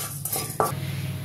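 A metal spoon scrapes and clinks against a pan while onions dry roast over a low flame for Rayalaseema-style erra charu rasam, a few soft, close taps over a steady background hum.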